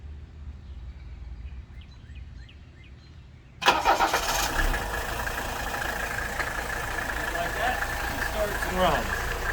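A 1985 Mercedes 300SD diesel engine cranks and fires abruptly after a quiet stretch with faint birds, then settles into a steady, close, loud idle clatter.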